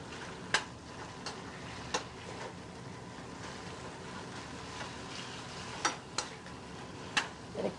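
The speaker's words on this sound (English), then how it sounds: "Again, we'll saute this like that." A pan of garlic with a pinch of oregano and salt sautés over low heat, giving a steady soft sizzle with a few sharp ticks and clicks scattered through, no voices.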